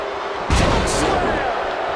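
A heavy body slam in the wrestling video game WWE 2K20, a single loud thud halfway through followed by crowd noise and a brief roar swelling behind it.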